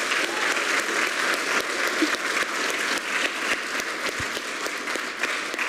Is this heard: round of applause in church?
yes